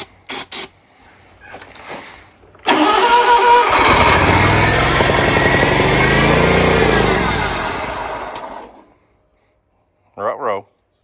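A small gas engine starts with a sudden loud burst and runs at a steady, harsh, buzzing roar for about six seconds before cutting out, with brief voices and clatter before it and a short voice after.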